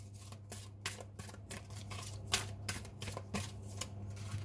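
Tarot cards are shuffled and drawn by hand, giving a quick series of crisp riffling flicks and slaps, close and steady over a low constant hum.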